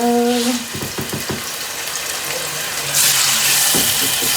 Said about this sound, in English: There we go, there's that sizzle.